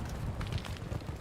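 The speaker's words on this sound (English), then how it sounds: "Gorgeous explosion." A brief explosion in Battlefield 2042 bursts in as a rumbling, crackling roar with low booming energy, short and moderately loud, heard alone without talk.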